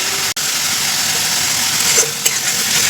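Bay leaves and cardamom pods fry in hot oil with a steady, close sizzle, broken by a brief clack early on and a light tap later.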